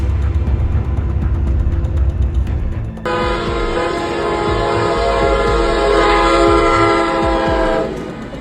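A loud train rumbles close by, and partway through a long, blaring horn starts and holds steady for several seconds over the heavy rolling noise.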